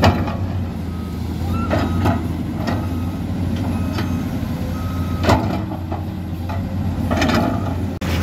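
Big truck at a worksite at sundown, idling with a steady low diesel hum while short reversing beeps and occasional clanks sound intermittently over it, fairly close and loud, no talk.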